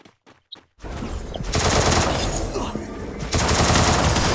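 Gunfire in the Free Fire battle royale game: a few sharp isolated shots, then dense, loud rapid-fire bursts that continue with brief breaks, close and full.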